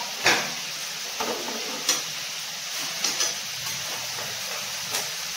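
A fish head goes into sizzling spiced oil in a pan, giving a steady hiss of frying with occasional clinks and scrapes from a utensil stirring it.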